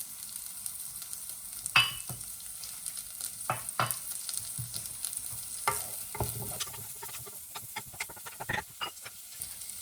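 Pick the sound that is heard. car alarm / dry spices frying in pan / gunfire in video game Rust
dry spices frying in pan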